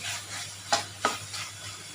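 Chicken sautéing in a pan for wheat flour murtabak filling, with a soft, steady sizzle and a couple of brief stirring scrapes, close by, with no voices.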